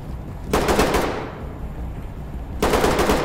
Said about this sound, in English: who's shooting over here?